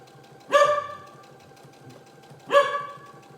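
A corgi gives two short, sharp barks about two seconds apart, close by, with a faint steady hum of a running sewing machine behind them.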